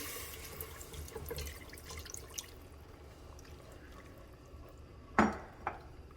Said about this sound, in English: So I'm going to start with a cup or so and just work that into the roux.